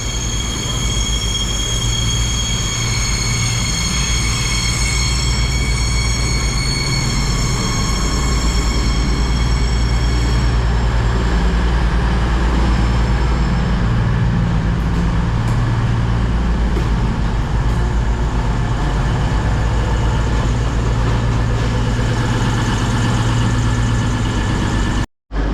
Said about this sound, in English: arriving as well is the 1300 cross-country service from Penzance to Manchester